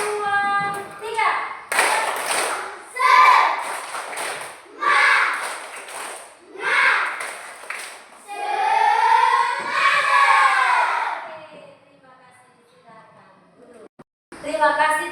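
A class of children does rhythmic spirit clapping in bursts while chanting loudly in unison, with pauses between rounds and a quieter stretch near the end.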